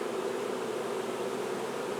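Honeybees buzz inside an opened nuc box, a dense, steady hum of many insects, close and continuous with no breaks.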